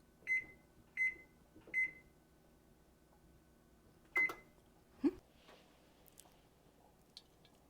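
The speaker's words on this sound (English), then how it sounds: "we are going to set our oven" An oven's control panel beeps as the temperature is set to 425: three short, evenly spaced electronic tones, then a fourth after a pause, with soft handling clicks in a quiet kitchen.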